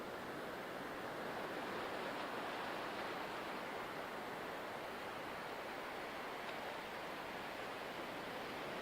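Water noise at a beach during an outdoor guided meditation, a steady, broad rushing hiss like surf or running water, unbroken and fairly soft, with no one speaking.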